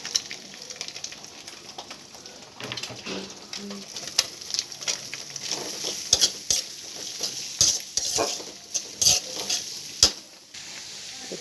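Onion, cauliflower, yardlong beans, carrot and capsicum fry in a pan, with a continuous sizzle under repeated sharp clinks and scrapes of a spoon stirring against the metal, close and fairly loud, with no talking.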